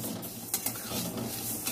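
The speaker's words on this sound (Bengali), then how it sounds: "ডালিয়াটাও একটু নেড়ে দিলাম" Daliya is stirred in a cooking pot, giving soft scraping and a couple of light clinks against the metal over a low bubbling hiss, close and without talk.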